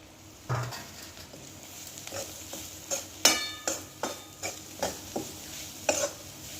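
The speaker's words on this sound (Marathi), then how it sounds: "खोबरं छान तांबूस होईपर्यंत आपल्याला परतायचं आहे छान भाजून घ्यायचं आहे" Grated coconut, onion and garlic frying in a pan, a soft steady sizzle broken by regular scraping strokes of a spatula stirring close by, with no talk.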